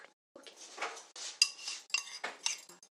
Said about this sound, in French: On commence par mélanger le sucre glace et la poudre d'amande ensemble.